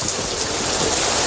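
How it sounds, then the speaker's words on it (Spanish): Steady, dense rainfall hisses close by, a continuous wash of drops with no voices over it. "Pero si, cariño, está lloviendo."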